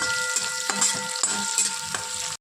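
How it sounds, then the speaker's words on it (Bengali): Onions sizzle steadily in hot oil with bay leaf and dried red chillies for a Bengali katla fish kalia, with a spoon scraping and stirring the pan several times. "পেঁয়াজটা একটু লাল করে ভাজাবো।"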